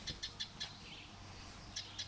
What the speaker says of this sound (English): You can hear the birds in the back.